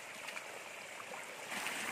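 A mountain stream runs steadily on a farm lot, its broad rushing wash holding an even level throughout, with a few faint trickling splashes and no voices.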